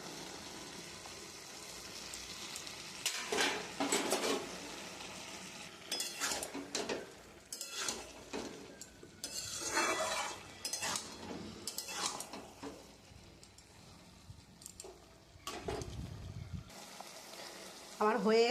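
Prawns frying in a pan with bottle gourd, with bursts of sizzling and hissing plus clinks and scrapes of a utensil against the pan, coming and going irregularly and fairly close.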